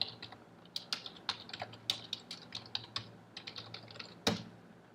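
Fingers tap out a command on a computer keyboard in a terminal, a quick irregular run of crisp close key clicks with one heavier keystroke near the end, alone in a quiet room.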